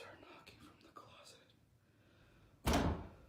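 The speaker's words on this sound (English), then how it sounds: "I just heard knocking from the closet" A single loud thud bursts out near the end, abrupt and close, after a stretch of faint rustling and murmured voices, like a blow against a closet door in a dim room.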